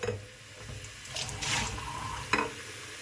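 Hot water splashes and runs over greasy dishes being washed in a sink, a continuous close wash of flowing water with scrubbing and clinks, brief louder bursts near the middle and end.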